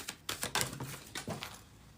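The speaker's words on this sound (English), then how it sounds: "Shuffling here." Tarot cards are shuffled close by, giving a quick run of soft papery slaps and riffles, several sharp bursts in a loose rhythm that trail off, faint and with no talk.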